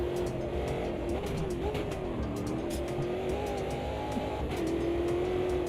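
A sim racing car's engine roars and climbs steadily under throttle, a loud, continuous whine that dips and rises through the gears, with faint tyre noise beneath it.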